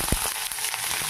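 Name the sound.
onion and chili frying in hot oil with spices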